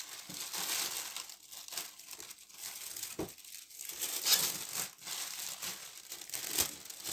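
A plastic fridge bag crinkles and rustles steadily while turnip leaves are packed into it, in close, continuous bursts of crackling with no talking.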